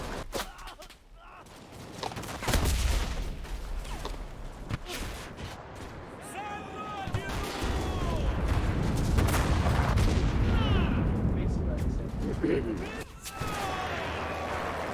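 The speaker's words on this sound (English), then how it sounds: "Hear that bomb?" Explosions and gunfire in the World War II shooter Enlisted during a Battle of Berlin match: heavy booms and bursts of shots over a dense rumbling battlefield din, with a voice talking over parts of it.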